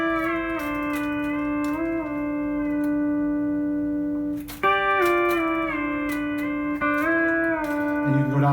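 Pedal steel guitar holding a sustained chord while its pedals are released unevenly, one before the other, so individual notes slide and bend at staggered moments, with a few picked attacks. Clear, close and moderately quiet with no talking.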